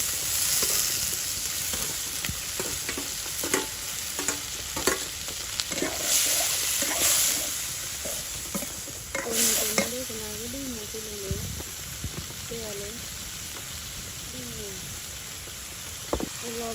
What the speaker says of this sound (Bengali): মাছগুলো দিয়ে দিচ্ছি